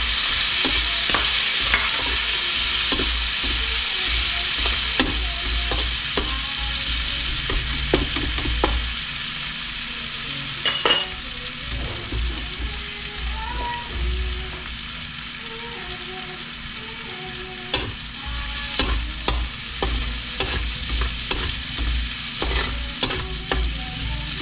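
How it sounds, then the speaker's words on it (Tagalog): Garlic and onion sauté in a hot pan with a steady, close sizzle, while a spatula scrapes and taps against the metal in irregular strokes throughout. "Tayo ay mag-gigisa ng bawang at sibuyas muna."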